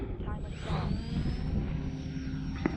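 A Valiant model airplane takes off into the wind with a steady propeller and engine drone that rises slightly in pitch. Outdoor wind noise runs beneath it, and a brief click sounds near the end.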